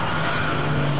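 VW Cup race cars at Rockingham braking down into the final chicane, a single engine note droning loud and steady with a strong low tone, close to the track and without talk.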